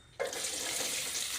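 Cumin and mustard seeds spluttering in hot oil for tempering, a sudden steady hiss that sets in abruptly and keeps a dense crackling texture throughout, close and fairly loud with no talking.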